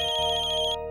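A mobile phone ringtone plays loudly and steadily as a repeating electronic melody with a pulsing high tone, alone with no talk, cutting off near the end of the second.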